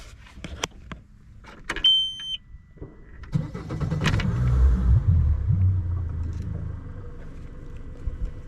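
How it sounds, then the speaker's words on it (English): A gas outboard boat motor is started after a few clicks and a brief electronic beep, then catches and settles into a steady, rumbling idle close by. "we have our gas motor running"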